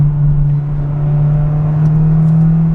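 A Honda Civic Type R FK2 drives in normal mode, heard from inside the car as a steady low engine drone and road hum that holds level and close, with no voices.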